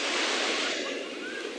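Sea surf rolls in at Playa La Rosa beach in Carabobo, Venezuela, a steady broad wash of waves that fills the short stretch with constant rushing noise.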